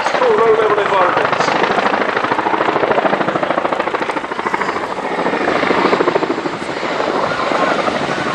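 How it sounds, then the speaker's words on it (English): A Chinook helicopter flies low-level manoeuvres at Cosford airshow 2017, its rotors beating in a loud, rapid chop that rises and falls, with a commentator talking over it. "these manoeuvres showcase the Chinook's excellent manoeuvrability, especially in a tactical low-level environment"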